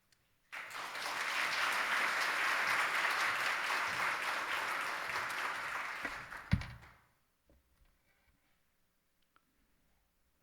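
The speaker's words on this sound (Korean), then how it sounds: "나오실 때 박수로 환영해 주시면 좋겠습니다" Congregation applause welcoming a visiting pastor to the pulpit during a Korean church Sunday service, a soft, even wash of many hands clapping for about six seconds, then fading into near silence with a faint thump.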